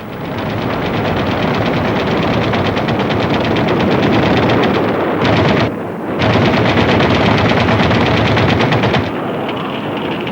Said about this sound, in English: raked the incoming troops with machine gun fire.